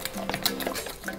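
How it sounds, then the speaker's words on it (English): A quick burst of whisking eggs in a bowl, brief clattering taps and scrapes of the utensil against the bowl, fairly soft and close, with no voices. "Whisk it, whisk it, whisk it!"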